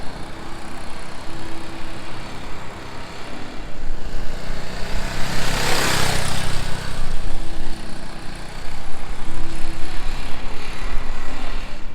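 Motorcycle ridden at slow speed during a rider training session, a steady near engine drone with a brief louder swell midway as it passes close, no talk.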